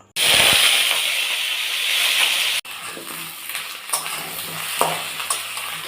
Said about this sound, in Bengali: আলুটা এখন হালকা করে আমি ভেজে নেব।